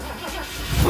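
An old-school carbureted car engine catches and rises briefly, a short close cranking rumble that swells toward the end.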